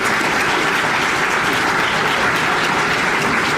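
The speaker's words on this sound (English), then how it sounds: "Big round of applause for the chamber staff here." Sustained clapping from a dinner audience at the Athena Award Dinner fills the room, loud and continuous throughout, with no break in the applause.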